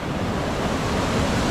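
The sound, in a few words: waterfall in northern Bali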